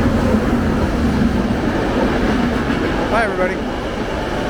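A train at a station in Italy, heading for Roma Termini, rumbles steadily with a brief squeal near the end, while a person speaks briefly over the noise.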